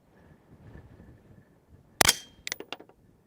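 A sharp, loud rifle crack followed a moment later by a few ringing metallic impacts on a steel target at 800 yards, over quiet outdoor background noise.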